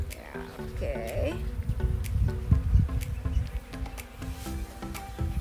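Honeybees buzz steadily around a frame lifted from a hive on a farm tour in Hatta, a close, continuous drone with voices talking over it.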